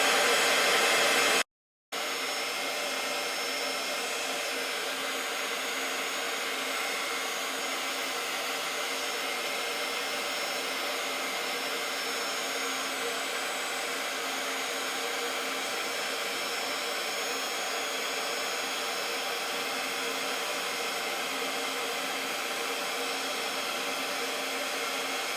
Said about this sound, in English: Now what I'm going to grab is my metal spatula and my heat gun, and I'm going to shrink this guy up.